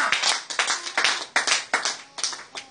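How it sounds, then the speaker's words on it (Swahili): A Bible study and prayer group gives the Lord loud clapping, about a dozen quick, uneven bursts of hand claps close by over nearly three seconds, with no talking. "Tupigie kwanza Bwana makofi makubwa"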